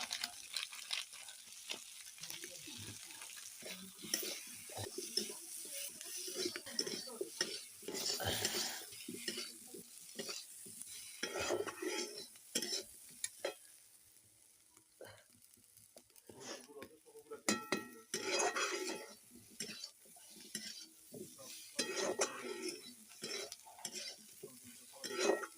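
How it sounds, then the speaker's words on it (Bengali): Chilli, turmeric and cumin powder are stirred together in a pan with repeated scraping and clinking of a spoon over a soft sizzle, quiet and close, with occasional faint voices. "লঙ্কার গুঁড়ো দিয়ে দিলাম, একসঙ্গে মিক্সড করে দিলাম"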